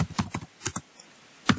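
Keystrokes on a computer keyboard as a Windows Server command is entered: a quick burst of close clicks, a short pause, then a single final tap.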